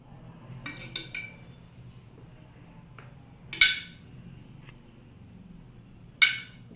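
Homemade chilli powder is put into a bottle, with a few sharp glassy clinks and a softer knock spaced across a quiet background.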